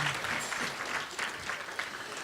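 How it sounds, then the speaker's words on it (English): Youth summit audience clapping together on request before a keynote talk, a brief, steady burst of moderate applause with no speech over it. "Can you all clap it up one time and just let me know?"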